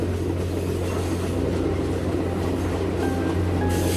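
A train runs through the 6,379-meter Samalada Tunnel bored through a mountain, a steady, enclosed low rumble and roar of wheels and carriage with faint tonal whines emerging near the end.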